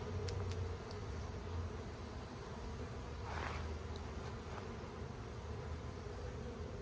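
Honey bees buzz steadily around hive frames during an apiary inspection, a dense continuous hum filling the air with a few louder passes of individual bees close by, no voices present.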